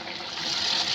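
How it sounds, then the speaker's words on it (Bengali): Water is poured into sautéed vegetables in a cooking pot for vegetable khichuri, giving a steady close splashing and trickling that rises slightly over about a second, with no talk. "সিদ্ধ হওয়ার জন্য পরিমাণ মতো পানি দিয়ে দিব।"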